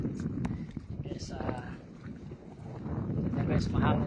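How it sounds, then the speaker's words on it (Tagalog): Strong wind buffets the microphone in rough, uneven gusts at Tagbak, Liloan, Southern Leyte, with a brief voice and faint water sounds underneath. "mahangin na sobra dito"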